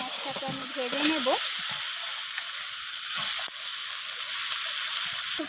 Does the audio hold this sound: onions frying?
yes